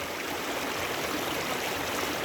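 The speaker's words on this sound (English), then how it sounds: "just listening to the sound of the water, it's so relaxing" Water pours steadily at Horseshoe Falls, a dense, continuous rushing roar close by with no voices.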